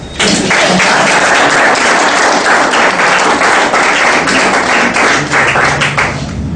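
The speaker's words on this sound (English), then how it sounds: "Give me a round of applause." An audience at a Toastmasters education session bursts into loud, dense applause that starts sharply after a brief pause and holds steady for several seconds before tapering slightly at the end.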